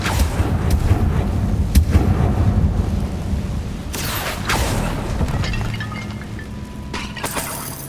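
Bombarda and Confringo spell blasts in Hogwarts Legacy, several heavy booming explosions with crackling debris and sharp cracks, loud and close, with no talk over them.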